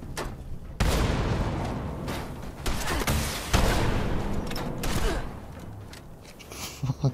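Missile explosions and gunfire in Fallout 76 burst in close, heavy booms and rattling volleys, one after another, loud and chaotic with brief lulls between blasts.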